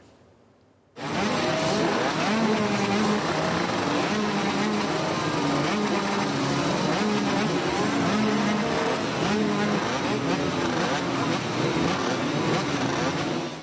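Motorcycles roar together in a funeral farewell for a 17-year-old, a dense, continuous engine rumble that bursts in after a quiet second and stays loud and steady throughout.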